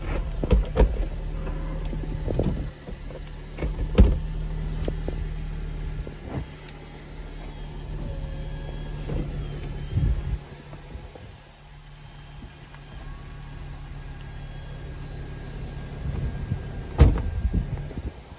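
Mercedes convertible roof retracting, an electric motor whirring steadily with a few sharp clicks and clunks at the start and near the end, nearby and moderately loud.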